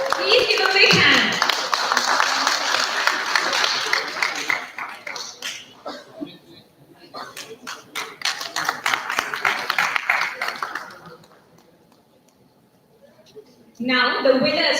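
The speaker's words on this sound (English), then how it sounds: "Please give a big hand." Applause for the runner-up team at an MSME Chintan Shivir awards event, a loud burst of clapping that fades and swells in a hall, with talk interspersed and clapping rising again at the end.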